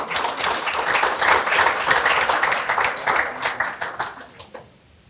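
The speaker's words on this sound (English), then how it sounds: "Let's give each one of ourselves a round of applause." An audience at a community meeting on gun violence claps together in a loud, dense burst of applause that holds for several seconds, then thins to a few scattered claps and fades out.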